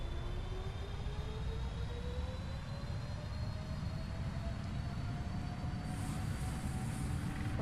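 Boeing 777-200 engines spool up to takeoff thrust in the Prepar3D simulator, a loud steady roar with a whine that climbs slowly in pitch throughout.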